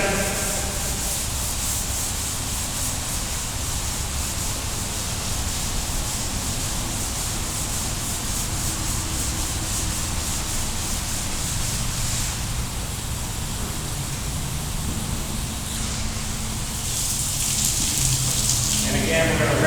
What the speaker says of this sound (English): We're now going to move to the brown pad, which is the coarsest pad that we're going to use on the inside of the bay cleaning.